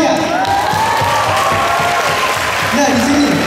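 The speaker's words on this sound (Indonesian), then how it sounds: "Tepuk tangannya." Audience clapping at a literacy workshop in South Sumatra, Indonesia, a dense, loud burst of applause mixed with crowd voices and some cheering.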